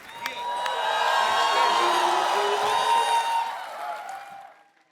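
A studio audience on The Kapil Sharma Show cheers and applauds for Nargis. The noisy, rising roar of whoops and clapping swells, holds for a few seconds and then fades out.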